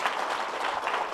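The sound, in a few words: audience applause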